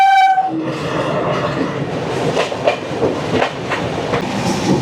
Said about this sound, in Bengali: আমাদের ট্রেন ছেড়ে দিয়েছে রামপুরহাট জংশন